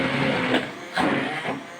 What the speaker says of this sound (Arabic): دوكا البنات نحكم نرحيه بالميكسر